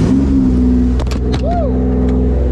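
A Toyota MR2 fitted with a 2GR V6 engine idles loudly and close by, with a few sharp mechanical clunks and a brief rising tone over the steady engine rumble.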